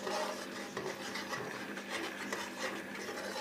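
Cream being stirred in a pan while making homemade desi ghee, a continuous close scraping and rubbing of a spoon against the pan bottom with a faint sizzle behind it, no talking.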